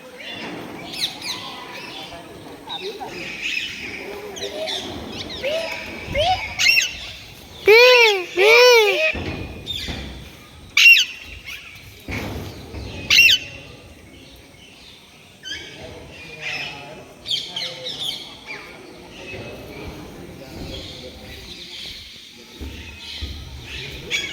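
Birds call inside a walk-through aviary at a jungle safari park near the Statue of Unity, with a few loud, harsh repeated cries standing out amid chatter and people talking nearby.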